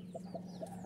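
A hen clucks in short, soft repeated notes at an even, quick rhythm, faint against a low steady hum indoors.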